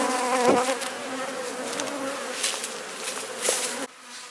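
Honey bees buzz loudly and continuously around a hive being moved, a dense close-up drone of many insects that drops away abruptly at the end.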